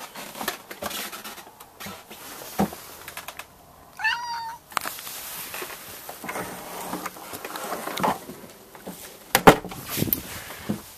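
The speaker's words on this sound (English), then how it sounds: "What is that cat doing?" A cat outdoors lets out one short meow near the middle, fairly close, among soft scattered taps and rustles in a quiet setting.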